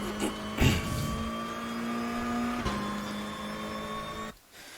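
A Lada race car engine in a racing video game at Salzburgring holds a steady mid-pitched drone at constant revs, with a brief burst of tyre or curb noise early on and a short drop near the end.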